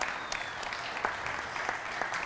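Audience clapping at a brewery panel talk in San Diego, a steady burst of applause from a seated crowd, continuous and fairly even for a couple of seconds.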